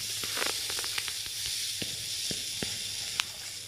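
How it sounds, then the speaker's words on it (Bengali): Ground spice paste frying in a pan: a continuous steady sizzle with scattered small pops and scrapes, fairly close and with no voices. "একটুখানি ভেজে নিতে হবে।"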